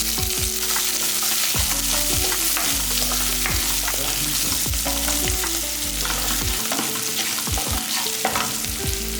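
Handful of chopped small onions (shallots) frying in a pan for a buttermilk curry, with a steady loud sizzle and repeated scraping stirs of a spatula throughout, no voices.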